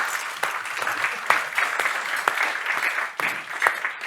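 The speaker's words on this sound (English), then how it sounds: "And maybe let's give them first a good applause for being here." Applause from a conference audience welcoming a panel of leaders at a European business tour event, a steady round of clapping with a few sharper individual claps standing out.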